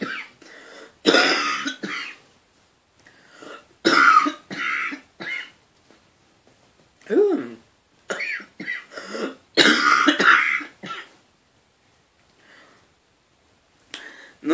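A man coughs repeatedly in loud, separate bursts while cleaning up at home, the fits close to the microphone with short quiet gaps between them.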